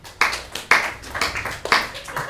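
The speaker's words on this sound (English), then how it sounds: "Can I have an amount of clapping and cheering that would express how happy you are?" A comedy-show audience bursts into rounds of clapping with some cheering, a few distinct uneven surges of hands over about two seconds, fairly close and loud.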